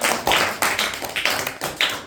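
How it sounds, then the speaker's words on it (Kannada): A classroom of students claps in applause, a loud, rhythmic run of roughly unison hand claps repeating a few times per second. "ವೆರಿ ಗುಡ್, ಚಪ್ಪಾಳೆ."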